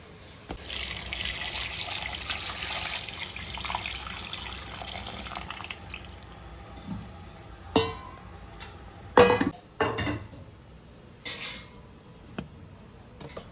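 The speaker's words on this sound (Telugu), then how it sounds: "ఇప్పుడు పులుసు వేస్తున్నాను అన్నమాట చేపల్లో." Tamarind broth being poured into a fish curry: a steady, trickling liquid pour for about six seconds, followed by a few scattered knocks and clinks of utensils.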